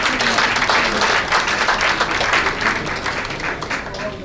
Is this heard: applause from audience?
yes